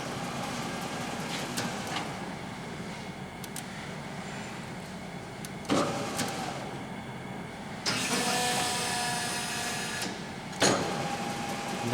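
A 1981 Leblond Regal engine lathe running at slow speed, 45 RPM, gives a steady mechanical hum and whir with a few sharp clunks and a brighter, rougher stretch partway through.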